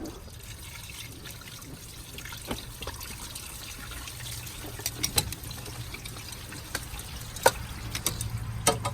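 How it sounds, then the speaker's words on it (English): Water drains out of a flooded car, trickling and dripping steadily at low volume, with scattered small splashes and clicks over a constant background hum. "Down in here, you'll be able to see where the water's supposed to come out."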